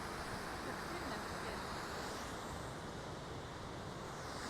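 Steady, dense rush of a waterfall in Scotland, on the road toward Edinburgh near a turning mill wheel, heard close up as a continuous broadband roar with no pauses.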